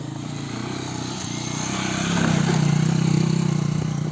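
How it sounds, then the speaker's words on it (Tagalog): A loud motorcycle engine on a downhill road with loose gravel, its steady low drone swelling as it comes closer and peaking near the end, with no talk. "Ang lakas ng kanyang motor."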